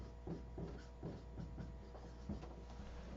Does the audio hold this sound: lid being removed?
no